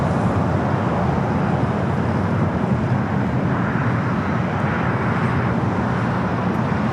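Continuous low jet rumble of a British Airways airliner taxiing toward the southeast corner of Tom Bradley terminal at LAX, steady and fairly loud throughout, with no voices.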